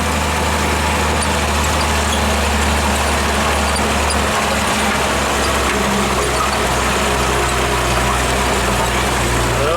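A 1948 Chevy dump truck's engine labors steadily while climbing a steep off-road curve, a loud, constant low drone heard close up and without talk.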